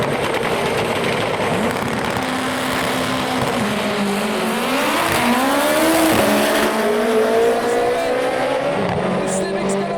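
Toyota MR2 and Honda Civic racing at a car meet, engines revving hard in a loud continuous roar with rising, shifting pitch, tires squealing at moments and crowd noise underneath.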